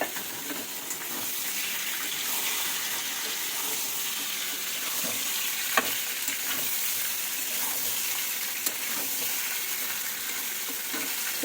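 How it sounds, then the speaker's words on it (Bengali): Potol and potato vegetable dish fries in a pan with a steady, moderate sizzle, broken by occasional sharp scrapes and clinks of stirring over a long stretch, with no voices. "এই যে পটল দিয়ে আর আলু দিয়ে একটু সবজি রান্না করে নেবো একাদশীর দিন।"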